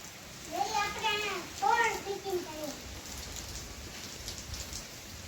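Steady rain patters throughout, with a voice speaking briefly over it near the start.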